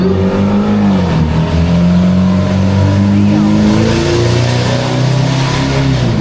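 A car accelerates hard past the listener, its engine revving loud and close with a rising, wavering pitch that sounds like a motorcycle before it holds steady as the car pulls away.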